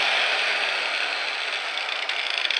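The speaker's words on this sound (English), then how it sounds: "It allows me to run the angle grinder" Angle grinder driven through a foot pedal system on a grinder mount, giving a steady, loud high-pitched whine that runs continuously without a break, with no voices.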